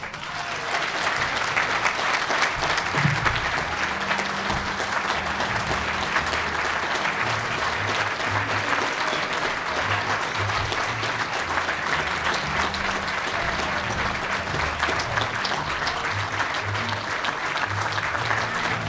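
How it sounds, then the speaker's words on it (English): A banquet audience gives sustained, even applause for a new CCA Louisiana Hall of Fame inductee at an induction ceremony, loud and dense clapping from start to finish with faint music beneath. "I'd like for you to give a round of applause for the newest CCA Louisiana Hall of Famer"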